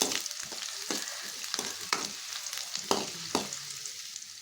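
Onions and green chillies frying in hot oil, a close crackling sizzle with a few distinct stirring scrapes at irregular intervals, moderately quiet and heard alone.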